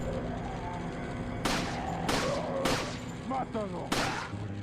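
Gunfire in the video game Resident Evil 4, with about four sharp loud shots spaced irregularly over a steady game background hum.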